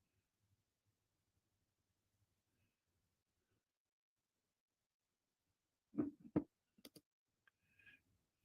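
A few sharp, close clicks in a short cluster after a long near-silent stretch, fitting a computer mouse being clicked while browsing images, with no talk.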